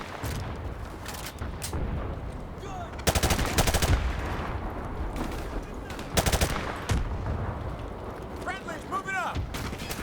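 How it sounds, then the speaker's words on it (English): Rapid gunfire from Call of Duty 4: Modern Warfare Remastered on Xbox One X, loud bursts of automatic shots and heavy booms that come in clusters, separated by quieter gaps of in-game ambience. "Someone else shooting now."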